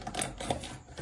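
Small toy coins from a battery-powered toy vending machine with music and lights clack and tap together in quick, light, irregular clicks while being handled up close.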